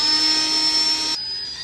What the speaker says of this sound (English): Make sure you're using a small drill bit that is smaller than the threads of your screw.